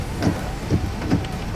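Morning rain falls in a steady, moderately loud wash of hiss with soft patters, with no talking over it.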